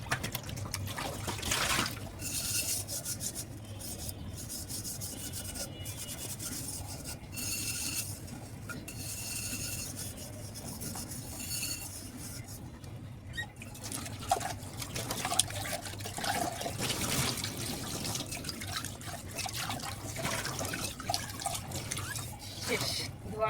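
Dishes being washed in a household sink, with a steady wash of running water and clatter throughout, mixed with the speaker's voice at times and some handling knocks.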